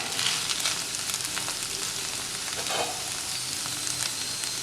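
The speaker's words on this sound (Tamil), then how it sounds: "இப்போ இந்த வெண்டைக்காய் நல்லா ஃப்ரை ஆகி சூப்பராக இருக்குது" Okra (lady's finger) fries in a pan for a South Indian vendakkai poriyal, giving a steady, dense, moderately quiet sizzle with faint crackles throughout and no voices.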